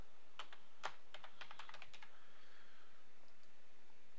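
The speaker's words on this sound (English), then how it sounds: "in the address bar, type the address of your website." Keys clatter in quick, uneven bursts as a web address is typed on a computer keyboard, close and fairly quiet, then the tapping thins out and stops.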